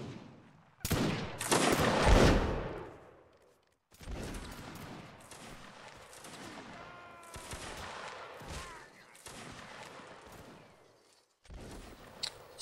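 Musket volleys crack out in a Napoleonic Wars line battle game, one heavy ragged fusillade followed by scattered single shots and smaller crackling bursts at mid distance.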